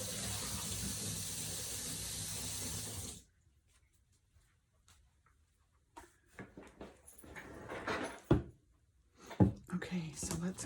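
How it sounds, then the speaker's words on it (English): A tap runs into a cup of water, a loud steady gush that stops abruptly after about three seconds, followed by quiet handling noises and a voice talking. "Let me grab a cup of water really quick."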